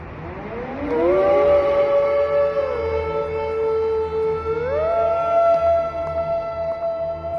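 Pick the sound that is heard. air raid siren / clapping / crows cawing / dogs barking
air raid siren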